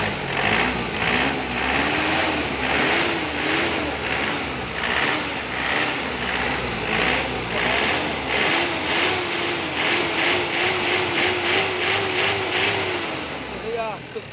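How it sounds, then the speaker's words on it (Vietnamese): A 2005 Isuzu Hi-Lander with a 2.5-litre diesel engine idles steadily and smoothly for the whole stretch, with someone talking close by over the running engine. "máy đang hoạt động nè, nổ rất là êm ái luôn"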